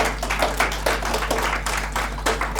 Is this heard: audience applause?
yes